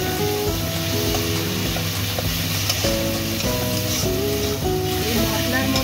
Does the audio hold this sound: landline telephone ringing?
no